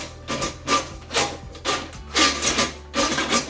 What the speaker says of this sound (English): and when I pull the auger out, it'll pretty much be on the metal piece.